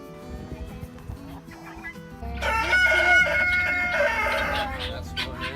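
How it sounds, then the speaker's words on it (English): Roosters on a family homestead crow loudly and nearby in a long drawn-out call, with clucking fowl and a little talk in the background. "Those are the littler roosters back there."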